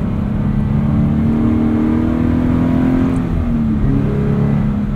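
Car engine revving steadily and loud throughout as the driver downshifts using heel-and-toe rev-matching, the engine note holding then easing slightly lower near the end, with no talk over it.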